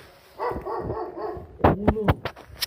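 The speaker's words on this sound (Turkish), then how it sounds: "Evet, köpekler geldi, yaklaştılar. Etrafımızda çok köpek var." Several dogs bark around an old church in Turkey, a cluster of sharp, close barks arriving in quick succession near the end, preceded by a person talking.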